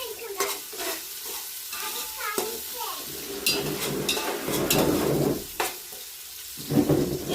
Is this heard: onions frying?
yes